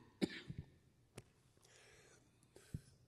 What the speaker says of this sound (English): if this coughing goes on for more than an hour, then this will be a really long service